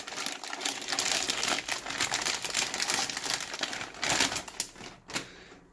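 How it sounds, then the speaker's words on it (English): Protective foil peeled off a new Asus RT-AC86U router during unboxing, a dense, continuous crinkling and rustling that stays close and fairly steady for several seconds. "I'll be removing the foil."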